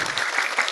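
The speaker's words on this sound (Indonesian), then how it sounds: "Ya, tepuk tangan dulu." A crowd at a talk on Pancasila applauds in a steady, dense wash of clapping for the whole short moment, fairly loud and close, with no voices rising above it.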